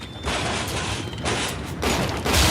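Grenade blasts from Nitro Splicers in the game Bioshock, heard as a continuous dense wash of loud booming explosions and rumbling debris, swelling in several bursts with no talking.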